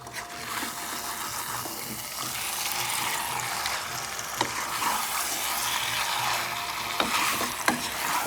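Chicken meat frying in spices in a pan over a high gas flame, a steady loud sizzle with stirring scrapes and a few sharp clinks, with no talking.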